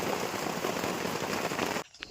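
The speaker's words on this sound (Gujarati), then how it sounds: "यहाँ बराबर की बारिश आ गई" Rain falls steadily at an outdoor work site where a tractor is in use, a dense close hiss and patter that cuts off abruptly near the end.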